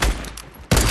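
Gunfire aimed at a player in Fortnite, two loud close bursts of rapid shots with a short gap between them.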